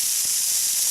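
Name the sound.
pan hissing as it is deglazed with butter over a campfire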